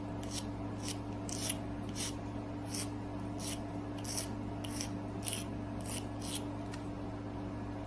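A nail file rasps steadily across fingernails as they are shaped into an almond form, a soft close scratching in quick repeated strokes over a constant low hum.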